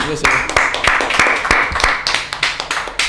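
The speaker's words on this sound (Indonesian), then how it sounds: "Tepuk tangan dong." An audience at an Indonesian talk show with a band claps in sharp, uneven bursts of applause, loud and close, with a voice heard among the claps.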